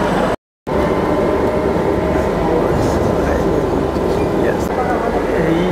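A Kolkata metro train runs along the line toward the airport, giving a steady, loud rumble of wheels and carriage that continues throughout after a brief gap at the start.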